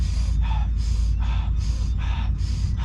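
Rapid breathing exercise during a runner's warm-up: quick, forceful exhales through the nose or mouth, about seven in a steady rhythm, close and loud over a low background hum.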